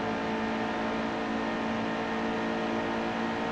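A race truck engine in NASCAR Heat 2 drones flat out at high revs, a steady, loud, unbroken whine on the track with no voices.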